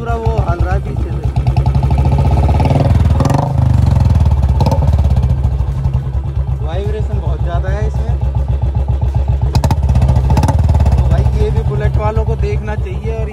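Royal Enfield Bullet Electra 350 single-cylinder engine running with a heavy vibration fault, a loud, close, rhythmic thumping idle throughout, with someone talking over it.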